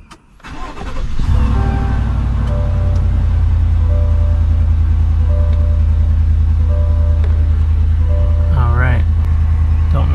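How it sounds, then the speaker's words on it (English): A car engine cranks briefly and catches, then settles into a steady, loud idle with a low hum and some faint tonal chimes over it. "Start the vehicle."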